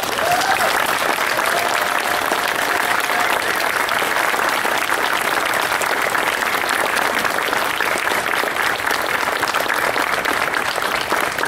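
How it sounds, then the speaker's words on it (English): A school Flag Day audience breaks into steady, loud applause that fills the whole stretch without letup, with a faint murmur of voices underneath. "they deserve a grand round of applause"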